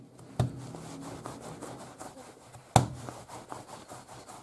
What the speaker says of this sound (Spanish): Lo tenemos que amasar para que quede una masa